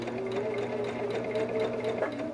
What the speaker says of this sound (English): You can do a little chain piecing.